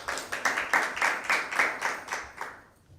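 Hearty applause for a team giving a correct answer at a school Bible quiz, a burst of many hands clapping in rhythmic waves that swells and then fades out over a few seconds.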